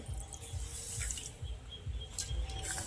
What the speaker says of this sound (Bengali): আর এক বাটি দিয়ে দিচ্ছি জল